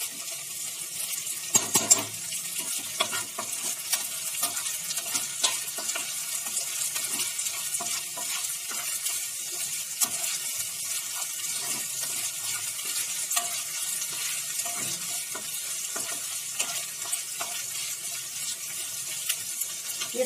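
Chunks of taro root fry in oil in a pan while being stirred, giving a soft, continuous sizzle with scraping and clinks of the spoon throughout, fairly quiet and with no talking.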